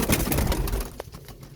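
Pigeons coo in a breeding loft, a soft, close burst of low throaty calls over a brief moment, with no talking.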